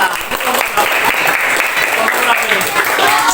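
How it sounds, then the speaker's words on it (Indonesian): Applause in an Indonesian classroom session as students are sent back to their seats, a dense steady clapping of many hands filling the room, with voices mixed in. "kasih tepuk tangan"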